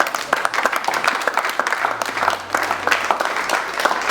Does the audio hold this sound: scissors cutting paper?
no